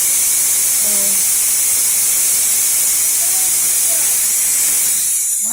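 Steam hisses loudly and continuously out of freshly cooked BBQ ribs, a bright sustained spray that holds steady before cutting off abruptly at the end, with no one talking over it.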